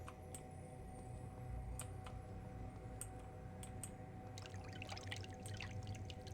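Water flows quietly in the Prince of Persia: Sands of Time game as a faint, steady pouring trickle. Sparse clicks and ticks sit over it, and a brief burst of splashy noise rises near the end.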